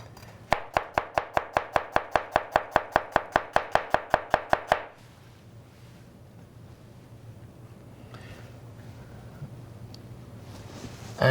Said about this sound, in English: I can chop it coarsely. A little piece of red onion or shallots